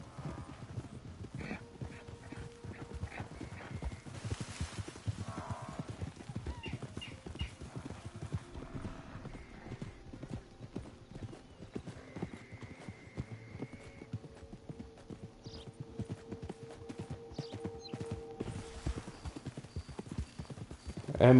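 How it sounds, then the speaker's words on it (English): Steady clip-clop of a horse's hooves as it follows along on foot in Red Dead Redemption 2, a continuous walking rhythm with occasional snorts or whinnies, moderately close and alone without talk. "And my horse is just following me along."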